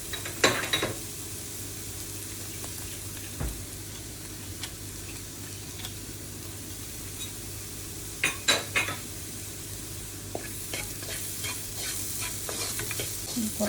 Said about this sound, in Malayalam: ഈ മസാല പച്ചക്കറി കൂട്ടിൽ ഉപ്പ് നോക്കിയതിന് ശേഷം ചോറിട്ടിട്ട് ഇളക്കിയെടുക്കാം.